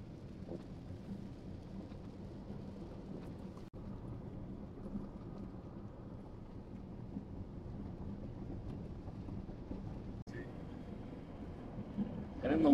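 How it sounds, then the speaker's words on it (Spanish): Heavy rain pelts a Ferrari Portofino on the road between Guadalajara and Arandas, a steady dense wash with road and engine rumble beneath, briefly broken twice by faint clicks and swelling at the end. "mira nomás cómo nos está cayendo de agua"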